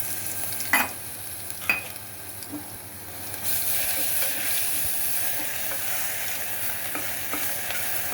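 Ginger garlic paste frying with fennel in oil for a brinjal, raw mango and mutton bone thalicha kuzhambu, giving a steady close sizzle with a couple of sharp stirring knocks early on, then a louder even hiss.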